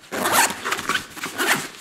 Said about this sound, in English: top zippers, there's two zippers on here.